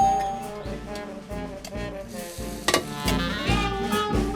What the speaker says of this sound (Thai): พริกที่หนูสับเมื่อกี้นี้ ผัดไฟอ่อนนะลูกหนูห้ามใช้ไฟแรงนะลูก